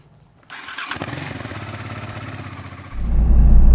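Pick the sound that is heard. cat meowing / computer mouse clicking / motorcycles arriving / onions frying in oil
motorcycles arriving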